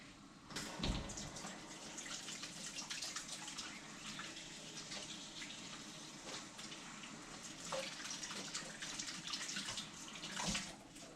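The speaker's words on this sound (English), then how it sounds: "Let me wash my hands really fast." Hands being washed under a running kitchen tap, a steady close rush of water with splashing bursts as the hands move through the stream, continuing without a break.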